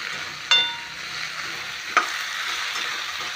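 Pumpkin being sautéed in a pan for a dry Marathi-style bhaji, soft continuous sizzle with two sharp spatula scrapes against the pan, no voices.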